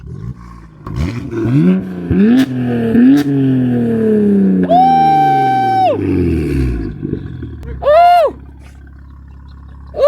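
BMW M4 F82 with its exhaust valve open, revving hard through several rising gear pulls and a high-pitched sustained wail, loud and close, with voices talking over it.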